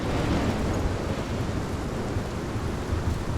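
A thunderstorm from the video game Life is Strange, with heavy rain hissing steadily and a deep rumble of thunder underneath, a dense, continuous wash of storm noise with no voices.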